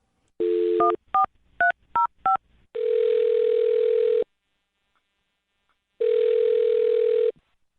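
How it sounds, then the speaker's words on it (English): A burst of dial tone, then a quick series of six touch-tone beeps, followed by two long steady dial-tone-like tones separated by silence. "I'll dial her number right now, see if we can get her on the phone."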